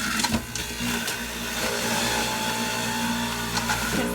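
An electric juicer grinds whole uncored apples, seeds and all, making a continuous whirring motor drone broken by crunching and knocking as the fruit is chewed up, close and fairly loud.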